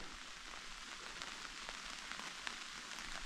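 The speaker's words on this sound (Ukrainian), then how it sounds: "Дощ паде і досить досить сильний паде." Heavy rain falls steadily in the Carpathian highlands in autumn, a dense, even hiss of drops on surfaces with scattered closer patters, continuous and alone with no voices.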